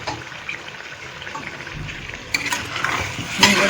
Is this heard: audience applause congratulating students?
no